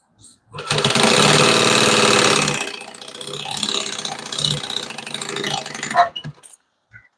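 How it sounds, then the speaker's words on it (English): A sewing machine stitches a seam in fabric, a loud, steady mechanical whirr running for about two seconds, then slowing to a lighter, uneven chatter of stitches before stopping. "Line it up. Stitch it down."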